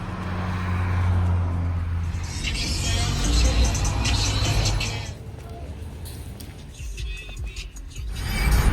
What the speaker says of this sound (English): And then of course traffic coming from left and right.